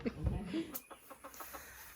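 A broody hen clucking on a farm: a short low vocal murmur followed by a run of soft, evenly spaced clucks, faint and close, with a little voice audible early.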